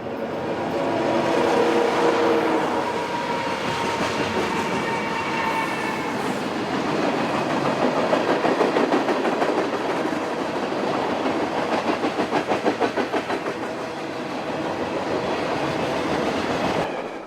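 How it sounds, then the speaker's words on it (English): An eastbound manifest freight train approaches near Klondike on a desert double-track main line, a loud steady rumble of engines and rolling cars with rhythmic wheel clatter building and holding throughout, no voices. "Near Klondike, an eastbound manifest approached our camera position late in the afternoon."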